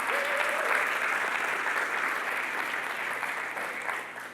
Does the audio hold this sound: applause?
yes